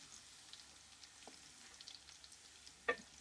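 Garlic frying in hot oil on low heat, a faint soft sizzle with small scattered crackles and one sharper pop near the end, no talking.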